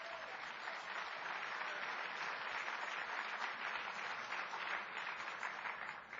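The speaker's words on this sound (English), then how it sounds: "Let's give a round of applause to your chairman." Sustained applause from a large crowd at the 2013 RNC Winter Meeting, honoring the RNC chairman Reince Priebus; dense, steady clapping fills the hall throughout without letup.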